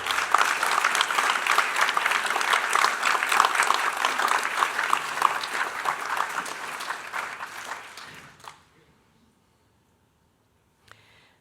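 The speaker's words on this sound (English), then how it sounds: "give them a round of applause and appreciation for all they did" Sustained audience applause honoring Minnesota Peace Initiative committee members at a spring symposium, a dense steady roar of many hands that fades out around eight seconds, leaving near silence with one faint knock.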